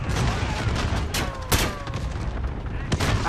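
Shotgun blasts in the video game Call of Duty: Modern Warfare, heard as sharp, loud bursts about a second apart amid dense, continuous game noise, with some background voice chatter.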